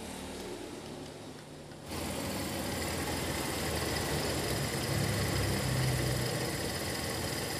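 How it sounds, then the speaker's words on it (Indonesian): Toyota Kijang Kapsul engine idling after carburetor tuning, a steady mid-pitched rumble that steps up in loudness about two seconds in and then holds an even, slightly rising drone. "ini Pak Toto akan naikkan dari RPM-nya"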